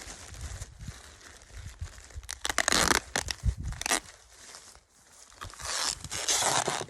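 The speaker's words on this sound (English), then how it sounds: "We're going to get some tape and we're going to tape the bag up." Tape rips and crackles in several bursts as it's pulled off the roll and torn to wrap a homemade sandbag, with rustling of the bag between the loud tearing strips.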